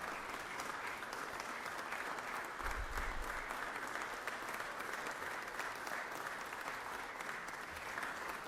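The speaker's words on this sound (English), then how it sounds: "I'd like to recognize Commissioner Murray with a round of applause at this time" A sustained round of applause fills the Georgia Senate chamber to honor a commissioner, a dense, even wash of many hands clapping that carries on steadily for the whole stretch.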